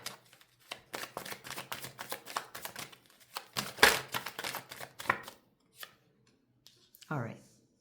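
Tarot cards shuffled and drawn at close range, producing a quick run of crisp, dry card flicks and slaps followed by a few single softer card placements, with a short bit of talking late on.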